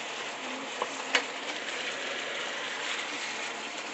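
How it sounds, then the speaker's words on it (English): Sirloin beef sautés in a pan for a pepper steak stir-fry, a steady moderate sizzle with a couple of sharp utensil clicks early on. "we're sauteing the beef."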